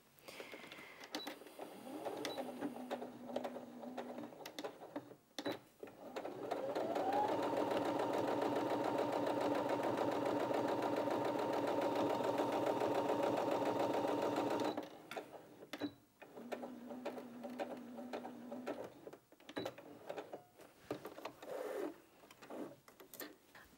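A Brother Innov-is 15 domestic sewing machine stitches through four layers of fabric, a steady whirring run of needle strokes lasting several seconds, framed by short bursts of stitching, clicks and handling noise before and after.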